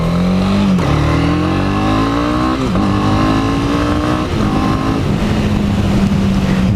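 A 2018 Honda CB300R single-cylinder motorcycle revving in first gear, its loud close engine note climbing in pitch, dropping briefly between pulls, then rising again across several seconds, with no talking.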